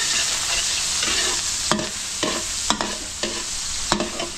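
Garlic and onion sautéing in a pan at a farm birthday cookout, a steady sizzle with a few sharp stirring scrapes and clinks spaced through it, close and moderately loud with no talking.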